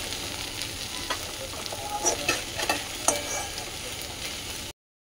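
Fenugreek greens fry in a pan with a steady soft sizzle, broken by several louder scrapes and clacks of stirring, before the sound cuts off abruptly.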